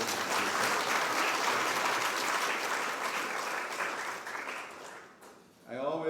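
An audience at the Guyana Tourism Awards ceremony applauds loudly and continuously for about five seconds, then the clapping fades and a voice begins.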